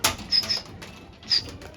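Rooftop pigeons take off with a few quick bursts of close, loud wing flapping, separated by short pauses and a faint chirp.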